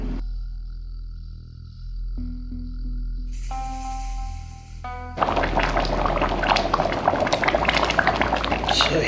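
Nepali khichadi bubbling in a covered pot on the stove, quiet at first, then loud, busy spattering and sputtering after about five seconds that holds steady to the end.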